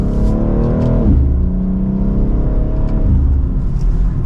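A 2024 BMW X3M Competition accelerates hard from second gear, its engine note climbing steadily, dropping at an upshift, then rising again on a loud, continuous run with no voices.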